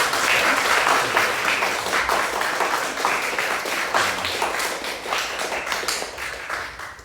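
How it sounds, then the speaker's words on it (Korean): Sustained applause from a church congregation celebrating a seventieth birthday, dense and lively clapping that carries on evenly before tapering slightly at the end. "뜨거운 박수로 생일 축하드립니다"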